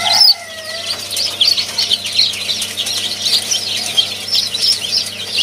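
Ayam cemani chicks chirp busily and continuously, a dense cluster of high peeping calls from several birds close by, with a brief louder sound at the very start.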